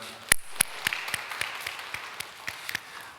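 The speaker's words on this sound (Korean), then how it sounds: "우리 하나님께 감사 영광의 박수 올려드리겠습니다" A church congregation applauds during a Sunday service, with sharp individual claps standing out over a softer spread of hands, loudest at the start and thinning into scattered, fading claps.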